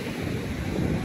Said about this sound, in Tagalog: Medyo malalaki yung alon eh, no?